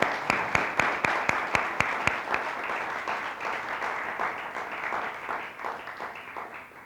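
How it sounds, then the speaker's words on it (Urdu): Applause from a church congregation at a Sunday service, starting with sharp distinct claps that soon blend into a steady, dense patter of many hands clapping. "زوردار تالیاں بجائیں کیونکہ وہ یہاں موجود ہے"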